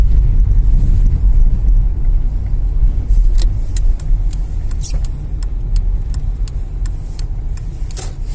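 A VW Golf 4 with a worn stabilizer bushing driving over rough road: steady loud cabin rumble with scattered dull knocks and small rattles from the suspension, no voices.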